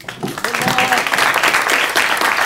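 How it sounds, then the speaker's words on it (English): A startup event audience in San Francisco breaks into loud applause for a presenter, dense clapping swelling quickly and sustained, with voices and cheers mixed in. "So a big round of applause for Adam from Hitmonk."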